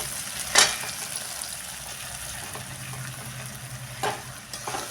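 Roasted jowar flour stirred into a pan of sautéed tomato and turmeric, with a steady low sizzle broken by a sharp scrape near the start and a few lighter stirring knocks later.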